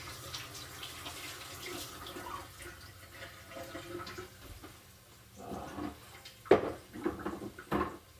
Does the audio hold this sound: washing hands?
yes